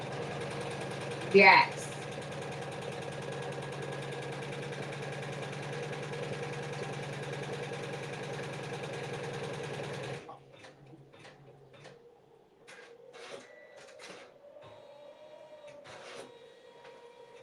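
Embroidery machine stitching a double heart design onto a faux leather zipper pouch, a steady mechanical whir that stops and then continues as quieter intermittent rapid ticking, with a brief spoken word near the start.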